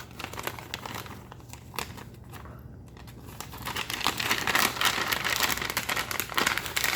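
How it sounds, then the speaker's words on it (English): Crinkling and tearing of the foil-plastic pouch of an MRE flameless ration heater, a continuous close crackle that grows louder and denser in the second half, with no talking. "we're going to go ahead and tear the top off of our FRH"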